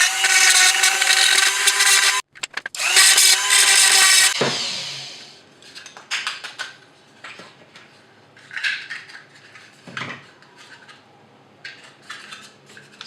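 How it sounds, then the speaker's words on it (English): A routing bit in a rotary tool bores a cavity into the plastic housing of an Xbox 360 power supply, a loud steady high whine for a few seconds broken by a brief pause, then quieter scraping, taps and short bursts of grinding. "just slowly drilling a cavity with a routing bit"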